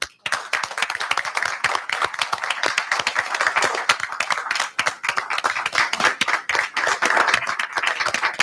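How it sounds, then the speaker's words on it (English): Attendees at a county board of education meeting give sustained applause, many hands clapping close and fairly loud for several seconds with a brief lull midway. "I would like to give you a big round of applause"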